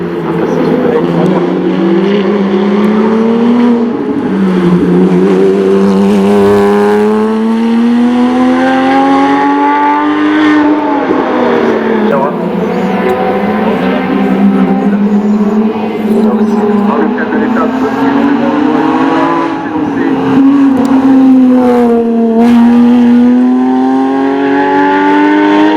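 Porsche race cars climbing the Col Saint Pierre hill climb course in 2024, engines loud and sustained, revving up and down through gears with repeated pitch sweeps over about twenty-five seconds.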